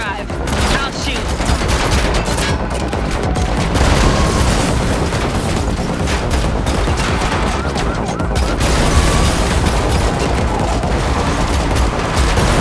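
Dense, loud gunfire roars almost without pause during a car chase in The Matrix Awakens Unreal Engine 5 demo, with rapid bursts and booms layered over engine noise.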